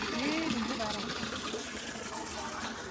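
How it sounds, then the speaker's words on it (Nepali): Water pours steadily from a traditional stone water spout (dhunge dhara) at Chandragiri Hills in Nepal, a continuous splashing gush with people talking nearby over it. "यहाँ यस्तो धारा रहेछ।"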